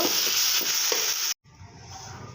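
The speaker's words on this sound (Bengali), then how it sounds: "শাকগুলো শাকগুলো ভেজে নেব সাথে দিয়ে দেবো পাতা কুচি" Mixed leafy greens fry and get stirred in a pan: a steady broadband sizzle with scraping stir strokes, then a brief gap before quieter sizzling resumes, with no talking.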